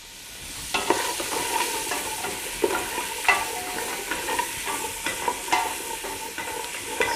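Vegetables for sweet corn and sweet potato soup sauté gently in a pot over medium-high heat, giving a steady soft sizzle broken by repeated stirring scrapes, close up and with no talking.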